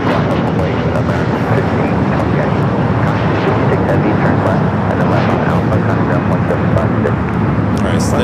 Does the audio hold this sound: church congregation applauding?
no